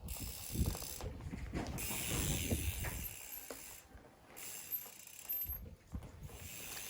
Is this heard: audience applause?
no